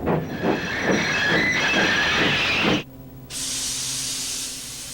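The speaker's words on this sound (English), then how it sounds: "Thomas's brakes sound like this." Thomas the steam engine braking on arrival at Brendam Docks, with a loud rumbling roll and rhythmic clanks that stop abruptly, then a sustained release of hissing steam.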